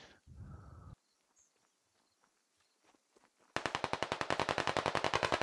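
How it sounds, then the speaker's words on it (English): Gunfire in the video game Squad: a short burst, then quiet scattered shots, then a loud, rapid automatic stream of evenly spaced rounds close by. "They're still shooting down the road."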